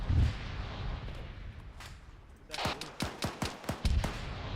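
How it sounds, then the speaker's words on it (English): Automatic AK rifle fire in the military shooter Arma 3 during a co-op exercise: a rapid string of about eight sharp shots, moderately distant, following a quieter stretch of ambient noise and a few earlier scattered reports. "Sounds like AK fire."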